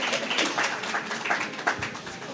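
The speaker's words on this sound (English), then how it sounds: "Let's give them a round of applause." Dense, sustained applause rolls on at a steady, fairly loud level from an audience gathered at a student honour roll recognition ceremony, with no break in the clapping.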